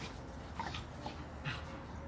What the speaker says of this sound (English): Frisky, frisky puppies.